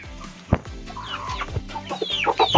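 A young five-month-old chicken clucks and squawks in short, close bursts as it is picked up by hand, the calls repeating irregularly with light handling noise and no talk.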